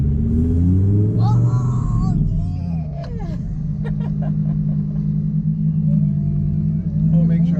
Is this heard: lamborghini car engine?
yes